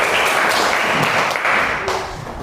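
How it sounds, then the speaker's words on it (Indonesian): Classroom applause for a student after a presentation, a dense continuous wash of many hands clapping, loud and close, tapering slightly at the end. "Tepuk tangan dulu buat Anissa."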